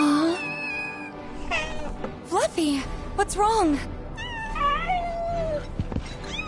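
A cat named Fluffy meows and caterwauls repeatedly in the video game Final Fantasy VII Rebirth, drawn-out wavering cries rising and falling, mixed with character dialogue and background game music.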